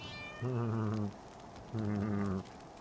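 A cat meows twice inside the Final Fantasy XIV video game, each call a clear, drawn-out mew close up, separated by a short pause over faint background sound.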